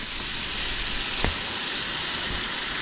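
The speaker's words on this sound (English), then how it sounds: "Alright, you can hear that? It's starting to sizzle." Wild hog meat sizzles in a hot pan as water boils off, a steady close crackling hiss with an occasional sharp pop or utensil tap.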